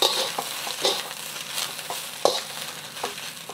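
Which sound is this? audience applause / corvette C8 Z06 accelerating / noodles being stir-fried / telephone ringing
noodles being stir-fried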